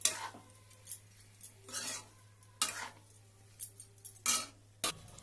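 Spring onion and chicken fry is stirred in a pan with dried red chillies, giving sparse scraping strokes of a spatula over a faint sizzle, close and fairly quiet with no talking.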